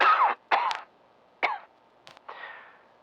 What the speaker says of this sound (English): I've had this persistent cough for days now